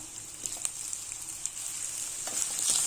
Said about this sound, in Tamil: இப்போ இதில் முருங்கைக்காய், சேனக்கிழங்கு, உருளைக்கிழங்கு சேர்த்துக்கலாம். கொஞ்சம் ஹார்டான காயெல்லாம் சேர்த்து ஒரு 2 நிமிஷத்துக்கு வதக்கிக்கலாம்.